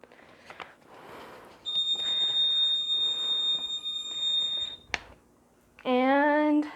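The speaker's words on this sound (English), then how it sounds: "And the end of period beep will go off in just a second." The end-of-period beep of a DC-606UT-BTC battery-operated clock and up/down timer display: one loud, steady electronic tone lasts about three seconds over background noise. A second strong, wavering beep burst follows shortly after.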